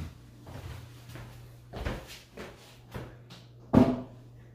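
Bathroom drawers and cabinet doors open and close in a series of soft knocks and slides, about five or six separate bumps spread over a few seconds. The last and loudest is a firm close near the end, heard alone in a quiet room.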